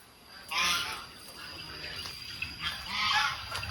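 Geese honk nearby on a farm in Laos in a few loud, raspy bursts, two clear calls separated by quieter chatter, over a faint steady background hum.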